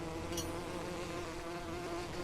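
A bee in the video game LEGO The Hobbit buzzes steadily and continuously at close range, a droning hum that holds level throughout with no voices.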